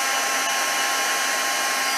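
A heat gun blows a steady, loud, close whooshing roar while melting embossing powder on a handmade card, an unbroken airy hiss with no pauses.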